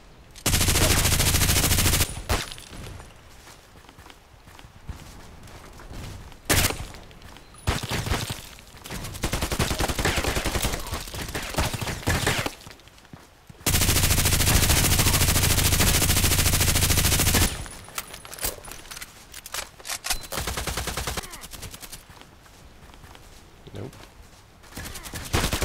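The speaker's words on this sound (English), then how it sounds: "Yes, and it's just because I got this lovely automatic machine gun." An automatic machine gun fires in the online shooter Contract Wars, with loud sustained bursts of rapid gunfire broken by quieter gaps of game sounds, the longest burst running several seconds.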